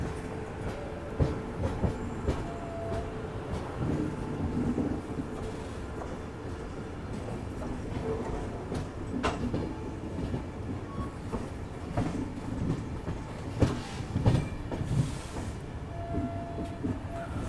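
Shatabdi Express passenger train rolling along the rails near Pune, a steady broadband rumble with scattered wheel clatter and rail clicks, moderately loud and continuous, with no voices.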